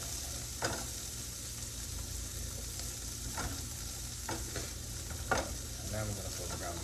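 Food frying in a pan on the stove before ground beef goes in, a steady close sizzle with occasional scrapes and clacks of stirring, no one speaking.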